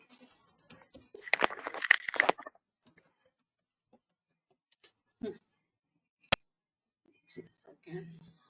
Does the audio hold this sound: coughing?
no